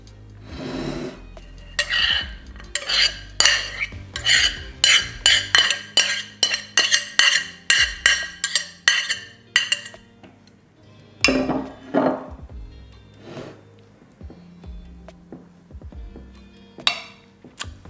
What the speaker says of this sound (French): Ensuite, je vais y mettre les champignons